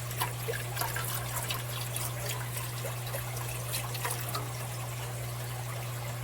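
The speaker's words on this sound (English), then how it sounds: "we're going to just pour this in here. And this is chicken bone broth." Chicken bone broth poured into a pot while cooking a homestyle country meal, a steady liquid trickle and splash lasting several seconds under a low kitchen hum.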